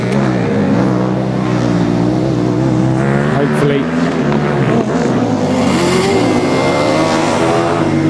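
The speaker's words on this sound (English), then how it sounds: "Engine still not sounding particularly clean on the Roma car" A Formula Student race car from the Roma team at an endurance event in Germany runs with an engine that is not running cleanly, a loud, steady, rough drone with small surges in pitch under a commentator's voice.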